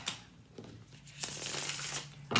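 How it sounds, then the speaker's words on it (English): Tarot cards being shuffled by hand during a reading, a few quick close riffling bursts separated by brief pauses, fairly quiet and with no talk. "One more shuffle, Capricorn."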